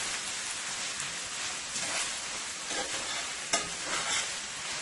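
Steady sizzling and frying of ingredients being sautéed in a pan for a Caribbean lamb stew, a continuous close hiss with an occasional stir or scrape, no voices.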